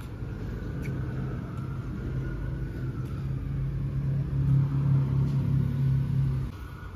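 A car engine idles and rumbles steadily at moderate level while a teenager practices driving, the low drone swelling slightly near the end before easing off.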